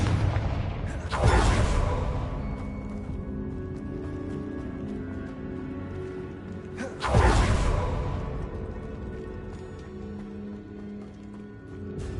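Two loud explosive booms from a Confringo fire spell in the Hogwarts Legacy video game, each a sharp blast with a whooshing roar that fades over a few seconds, set against a steady game-world background hum.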